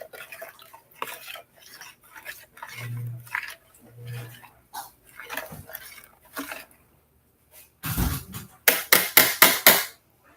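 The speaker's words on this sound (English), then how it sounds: "I'm gonna stir this." Stirring food in a pot at home: scattered scrapes and clinks of a utensil against cookware with quiet gaps, a short low hum, then a cluster of loud rapid knocks and clatters near the end.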